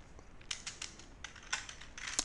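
Quick bursts of keystrokes on a computer keyboard while code is typed, light close clicks in short irregular clusters, fairly quiet.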